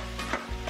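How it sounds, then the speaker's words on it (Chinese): Minced pork, garlic and cherry tomatoes are stir-fried in a pan: a brief, close burst of sizzling with a scraping stir of the spatula, loud and without voices. "加入蒜末炒香，加入肉末炒熟，加几个小番茄翻炒一下"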